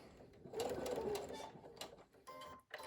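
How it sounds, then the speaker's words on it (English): A home sewing machine stitches a cloth face mask seam to the edge and back, a close whirring, rattling run of needle strokes that pauses and restarts, with no voices. "we're going to sew that down right to the edge and then back"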